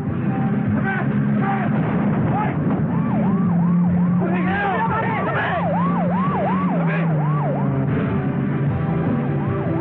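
A wailing police siren sweeps up and down in repeated loud rising-falling arcs, continuous through busy background music and noise, with a voice faintly mixed in.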